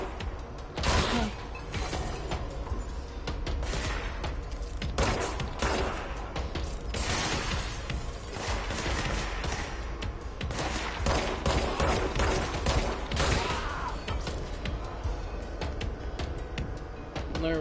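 Dense, continuous gunfire during a firefight in the Control video game, with sustained bursts and a loud mechanical clatter running steadily throughout, with no voices.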